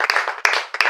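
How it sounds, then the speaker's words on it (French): A church congregation clapping steadily, a dense patter of many hands with a few sharper claps standing out. "On peut applaudir très très fort pour le Seigneur Jésus."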